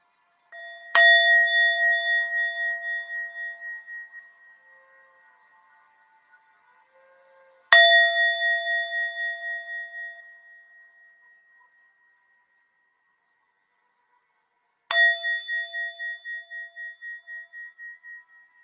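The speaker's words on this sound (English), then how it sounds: "Listen to the bells a moment." Bells and a singing bowl are struck three times at wide intervals; each ring hums and vibrates with a bright sustained tone that slowly fades into silence.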